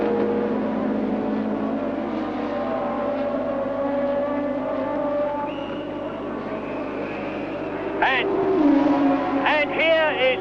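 A 1982 Formula One car at the Austrian Grand Prix comes into the pits, its engine droning steadily under a commentator's voice, with brief higher-pitched whines and blips near the end.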